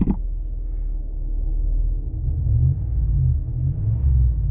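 A pickup truck fitted with a Flowmaster FlowFX direct-fit exhaust muffler idles, giving a steady deep low rumble with no talking.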